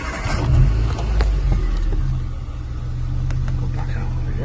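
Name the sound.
Nissan Micra 1.2 engine starting and idling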